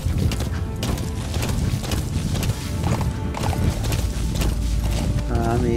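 A horse's hooves gallop steadily in Metal Gear Solid V: The Phantom Pain, a continuous loud clip-clop rhythm under dense game ambience, with a brief whinny-like sound near the end.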